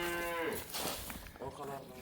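Pregnant Simmental cow lowing, one long drawn-out moo at the start, followed by quieter grunting breaths and a second softer moo near the end, close and clear.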